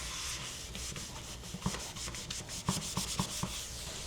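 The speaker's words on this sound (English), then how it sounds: "this scouring pad just took just a little bit of it off, and now I'm able to restore it back with the Old English" A scouring pad rubs Old English polish into a wooden surface with steady scratchy strokes, a few sharper scrubbing passes standing out near and close, and no talking.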